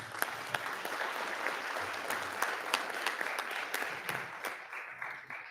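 Scattered audience clapping in a board meeting room, moderately quiet with distinct individual claps standing out over a softer continuous patter, fading toward the end.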